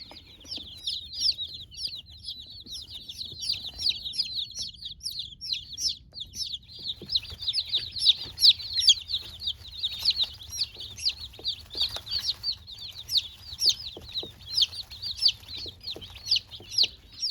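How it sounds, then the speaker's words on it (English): Baby chicks in a chilly barn chirp continuously, a dense flock of high, rapid peeps close by over a low hum, probably from equipment or a heat lamp, with no talking. "Let's just add the chicks."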